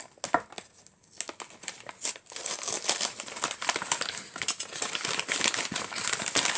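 Wrapping paper being carefully peeled and unfolded from a parcel, a close, continuous crinkling and rustling with sharp crackles that builds from sparse handling into steady dense crumpling.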